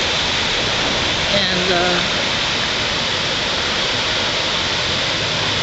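Steady broadband rush of water at the damaged Dudley Tonkin Dam in Clearfield, Pennsylvania, a continuous roar like a waterfall, with someone talking briefly over it near the start.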